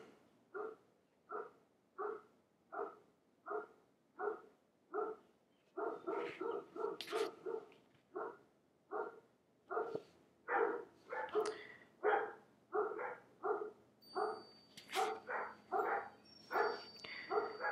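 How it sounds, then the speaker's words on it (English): Livestock guardian dogs on a ranch bark in steady, evenly spaced bursts, then more dogs join in, making the barking denser, louder and more overlapping. "I've got livestock guardian dogs out here."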